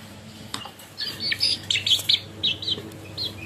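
Hens in a cage making a run of short, high chirping calls in quick irregular bursts, fairly faint and close, over a low background hum.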